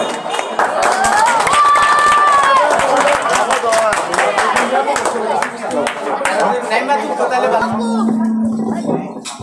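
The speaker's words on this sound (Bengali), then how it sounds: "হাততালি দাও।" Crowd at a sporting club prize ceremony for the champion team, with dense, steady clapping and murmuring chatter filling the whole stretch, voices rising over the noise and a whistle-like tone near the end.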